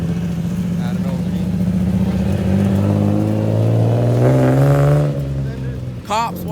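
A Nissan 350Z engine revs at an outdoor car meet, a loud, sustained exhaust note that climbs in pitch and swells near the end before dropping off, with crowd chatter mixed underneath.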